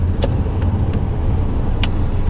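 A car on the road, heard from inside as a steady, loud low rumble of engine and tyre noise, with a few faint ticks and clicks over the drone.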